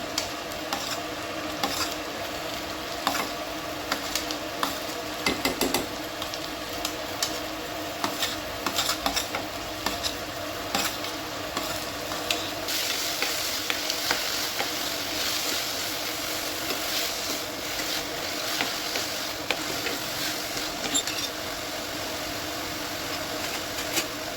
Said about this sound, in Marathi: आता ना मी इथे कांदा छान असा फ्राय होऊन दिला आहे.